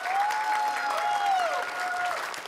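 Audience applause at a Kazakh family talent show, steady even clapping filling the hall at moderate level, with a sustained tonal hum running underneath throughout.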